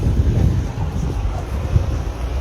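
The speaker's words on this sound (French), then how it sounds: "Heureusement qu'il y a un peu de vent." Wind buffeting a microphone outdoors on a hot day in Lyon, a loud continuous low rumble with gusty swells and no speech.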